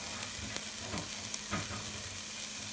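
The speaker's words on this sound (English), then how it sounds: "I'm going to toast my spices in here" Spices toasting in a pan with garlic, jalapeno and onions for chicken tortilla soup, a steady soft sizzle with a few scraping stir strokes, close and moderately quiet, no talking.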